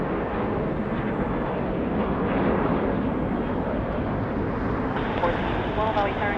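A jet airliner roars steadily during takeoff on runway 25 right at LAX, a broad sustained rush of engine noise heard from a distance with no break.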